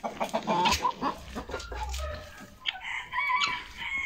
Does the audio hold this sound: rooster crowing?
yes